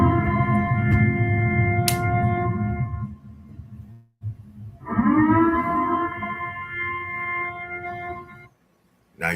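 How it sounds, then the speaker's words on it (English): A loud civil defense siren wails in two long rising and falling cycles, with a brief gap between them, no voices. "when you hear that siren in any of your cities"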